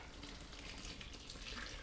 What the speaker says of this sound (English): I'm adding extra water so I didn't have to come back so quickly.